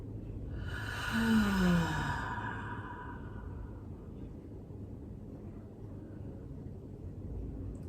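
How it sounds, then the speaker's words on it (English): A slow, deep breath during a guided relaxation session, drawn in and let out as a soft, airy sigh near the microphone, fading into a quiet, steady room hush. "Another deep breath in."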